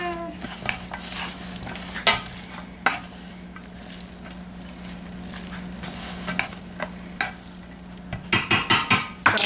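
A spoon mixes stuffed pepper filling in a bowl or pan, with repeated sharp scrapes and clinks against the vessel over a soft steady background, quickening into a burst of clattering strokes near the end.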